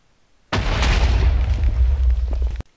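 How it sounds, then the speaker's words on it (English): A TNT cannon explosion in Minecraft, one loud, close, sustained roaring boom of about two seconds that starts abruptly and cuts off sharply, with no talk. "TNT cannons won't destroy blocks."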